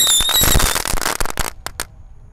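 Mercon tikus pretek firecrackers set off at night, a dense burst of rapid crackling pops that thins into a few last sharp bangs before falling quiet.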